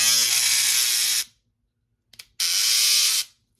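A BaBylissPro electric razor buzzing loudly up close after its head is reattached, running in two bursts of about a second each with a silent gap and a faint click between.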